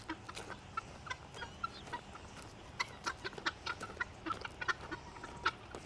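Farm chickens cluck in short, irregular bursts, some close and some farther off, against a quiet outdoor background.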